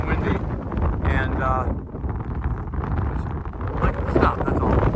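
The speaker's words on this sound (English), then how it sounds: "this is really pretty cold and windy" Cold wind buffets the microphone in a mountain gap on Little Hump Mountain along the Appalachian Trail, a loud, constant rumbling roar with gusty surges throughout.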